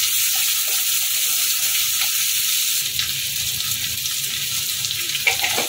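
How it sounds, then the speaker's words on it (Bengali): Steady, loud sizzling of onions frying in a pan, a continuous hiss with faint stirring scrapes toward the end. "পেঁয়াজটা হালকা করে ভেজে নেব।"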